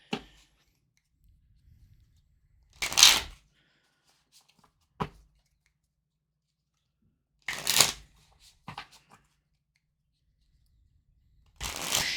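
Oracle cards being shuffled in three short riffling bursts, with a couple of faint single clicks in between and long quiet gaps.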